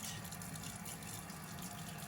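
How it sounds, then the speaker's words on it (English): Water runs steadily into a cooking pot set up for steaming eggplants, a continuous close gushing fill lasting about two seconds with no talking. "let's add some water to the pot"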